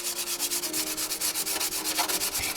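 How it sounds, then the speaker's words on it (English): Rhythmic back-and-forth strokes of a sanding block on a motorcycle fairing make a dry, scratchy rasp, close and loud, repeating steadily with no talking. "you just kind of get used to using a sanding block whenever possible"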